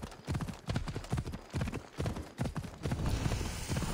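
Horse hooves clatter in Assassin's Creed Odyssey, a rapid rhythmic clip-clop of galloping that runs steadily throughout, close and fairly loud with no talking.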